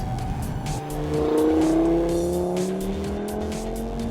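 A race car engine rises in pitch as it accelerates through a turn while drifting, with a steady whining drone up close and no talk.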